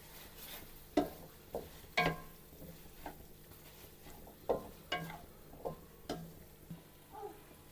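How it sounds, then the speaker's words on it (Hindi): A spoon stirs chicken with vinegar and chili sauce in a pan, making repeated scraping knocks in an irregular rhythm over a soft, continuous sizzle. "इसको अब हम अच्छी तरीके से मिक्स कर लेंगे।"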